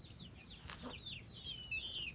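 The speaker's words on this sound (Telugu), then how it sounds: "వీటిలో పెట్ట పిల્లలు పుంజు పిల్లలు రెండు ఉన్నాయి" Young chickens, both hen and rooster chicks, cluck and peep softly in quick, scattered high calls, faint and close, over a low background hush.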